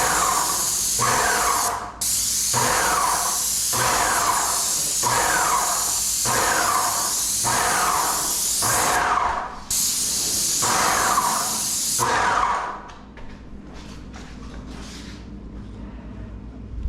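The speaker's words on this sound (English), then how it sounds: "let's put a mask on and try to do some spraying" Paint sprayer blasting paint in a house under renovation: repeated loud hissing bursts of a couple of seconds each in a steady rhythm with brief pauses, ending in shorter, softer spurts.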